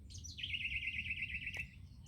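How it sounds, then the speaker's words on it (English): Birds in the trees beside a parked campervan chirp and sing in the early morning, with one clear, steady high trill running through most of the moment over a low rumble of background noise. "These birds have been gone absolutely balmy all morning, because where we parked we've got trees right behind us."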